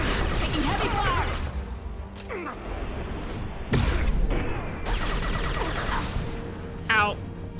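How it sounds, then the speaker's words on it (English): Heavy gunfire and booming impacts in a Mass Effect 2 firefight, sharp bursts and crashes rolling under in-game voices, with a louder blast partway through and another near the end. "Taking heavy fire!"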